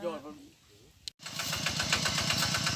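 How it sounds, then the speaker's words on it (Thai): A brief voice, a short gap, then a tractor engine rumbles loudly with a rhythmic, labouring chug as it climbs. "รถไถกำลังขึ้นมา"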